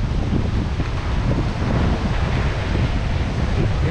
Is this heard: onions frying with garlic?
no